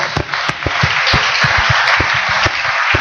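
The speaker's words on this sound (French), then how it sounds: "Applaudissons fort." A church congregation claps loudly for about three seconds, with sharp, fairly regular handclaps over a continuous roar of applause.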